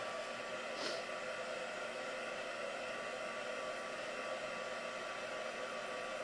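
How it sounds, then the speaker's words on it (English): A heat tool blows hot air to dry ink on a handmade Halloween card, a loud constant whooshing drone that runs unbroken from start to finish, close and alone. "I'm going to dry this off just quickly"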